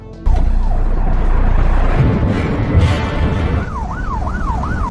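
An ambulance siren wails loudly and close, its rising and falling tone cycling repeatedly over the rumble of a moving vehicle.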